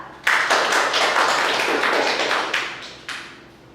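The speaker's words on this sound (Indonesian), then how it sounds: "Tepuk tangan dulu buat Laila dan Salsa." A small classroom group claps together for a few seconds, a dense patter of hands nearby that swells and then tapers off.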